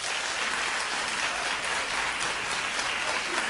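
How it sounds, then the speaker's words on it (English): A studio audience claps steadily in a dense, even wash of hands that barely rises or falls, with no voices cutting through. "Keep clapping"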